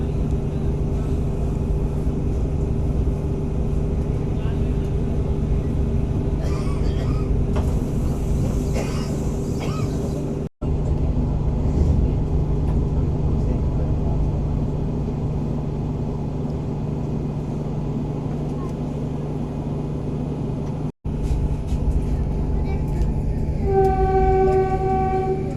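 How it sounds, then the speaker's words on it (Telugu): A Vande Bharat Express pulls out of Jhansi station with a constant loud rumble and hum, a hissing burst partway through, and a horn-like tone near the end. "ఝాన్సీలో 4 నిమిషాల హాల్ట్ తర్వాత మన ట్రైన్ తిరిగి బయలుదేరింది"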